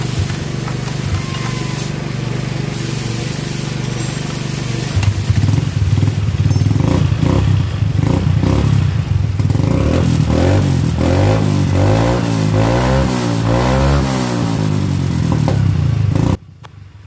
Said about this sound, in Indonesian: saya akan coba hidupkan motornya